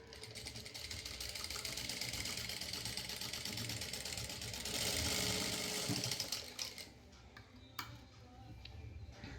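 A sewing machine top-stitching a blouse seam on a princess cut blouse, running in a fast, steady mechanical chatter for several seconds, then stopping, followed by a few faint clicks and handling sounds.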